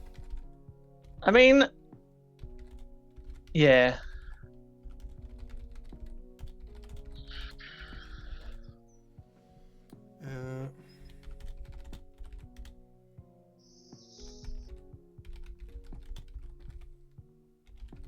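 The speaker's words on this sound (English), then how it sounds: "I'm going to start typing." Someone types steadily on a computer keyboard, with soft rapid key clicks running through the whole stretch while people speak briefly a couple of times.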